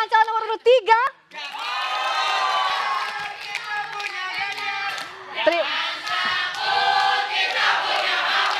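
Studio supporters of three candidate pairs cheer and shout at a televised 2024 Indonesian vice-presidential debate. A brief voice comes first, then a loud, sustained crowd roar with whoops that keeps swelling for several seconds.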